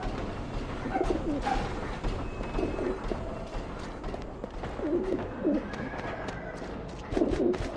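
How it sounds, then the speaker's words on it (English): Pigeons cooing in a coop in the video game Alice: Madness Returns, several soft warbling coos repeating every couple of seconds over a low ambient hum with faint mechanical clicks. "A coop is really just a cage, but the birds don't seem to mind."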